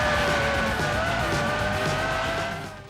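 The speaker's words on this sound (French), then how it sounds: "L'ambiance sonore, le bruit des moteurs, comme si vous étiez au cœur de la course." Formula 1 racing cars in a video game, engines screaming at high revs in a dense, continuous roar with tire squeal, loud and close, fading slightly at the end.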